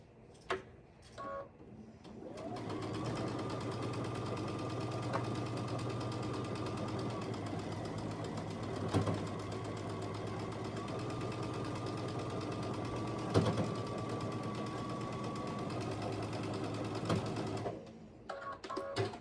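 A sewing machine stitches down the side of a quilt block in one long steady run after some brief handling sounds, its motor hum and needle rhythm close, with a short change in pitch midway and a stop near the end.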